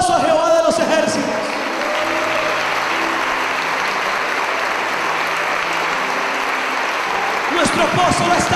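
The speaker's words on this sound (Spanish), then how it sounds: "¿Cuánto le dan un aplauso a Jehová de los ejércitos?" Congregation at a church youth service applauds together, a steady wash of clapping that holds for several seconds, with a voice speaking over it at the start and end.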